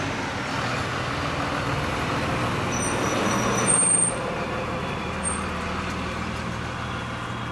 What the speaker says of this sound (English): Had to let the UPS truck go by.